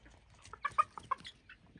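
Chickens clucking in short, soft bursts, several calls overlapping at close range with no talking.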